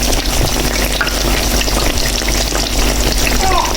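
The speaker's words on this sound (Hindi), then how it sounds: "ये देखिए कितने जबरदस्त फ्राई हो रहे हैं" Eggplant and potato pakoras frying in hot oil, a loud, continuous close-up sizzle and bubbling that holds steady throughout with no talking.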